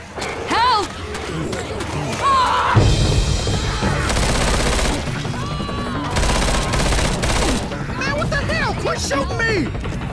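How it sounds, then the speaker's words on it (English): Sustained bursts of gunfire in the zombie shooter Left 4 Dead 2, heavy broadband volleys from about the three-second mark onward, with voices shouting over the shooting throughout. "Quit shooting me!"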